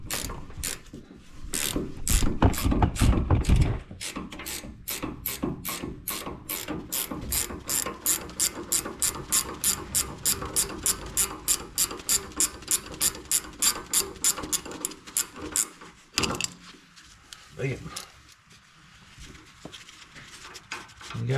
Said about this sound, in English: You can either hold the wrench and turn the ratchet, or the opposite.